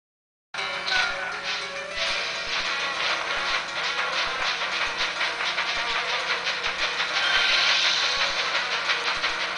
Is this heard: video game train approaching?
yes